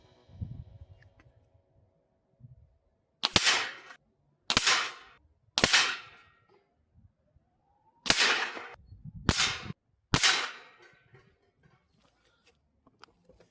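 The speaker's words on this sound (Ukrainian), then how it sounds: "Зараз ще по одній бахну на пробиття" A Gamo Hunter 1250 spring air rifle fires six sharp, loud cracks outdoors, three in quick succession and then three more after a pause, with quiet handling noise between them.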